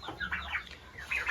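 Young turkeys and chicks in a poultry coop give a quick run of high, rising peeping calls, several close chirps in a row, moderately loud with no people talking.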